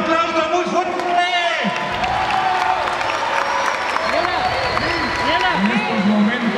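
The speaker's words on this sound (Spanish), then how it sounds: "A estas dos leyendas, el Capitán Aventura y Mil Máscaras, un aplauso muy fuerte." Arena crowd at a Monterrey lucha libre tribute applauds loudly for two masked wrestling legends, steady dense clapping under an announcer's voice and crowd noise.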